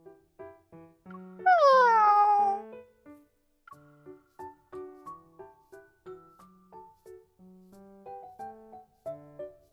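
Stylized cat meows from a video game, a loud rising-and-falling yowl near the start followed by a soft, plinking musical backing that continues to the end.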